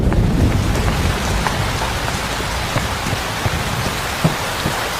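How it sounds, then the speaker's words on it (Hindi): Heavy rain pours steadily on surfaces close by, a dense continuous hiss with scattered louder drops and a low rumbling undertone. "आ जाओ, बारिश आने वाली है, अंदर चलते हैं।"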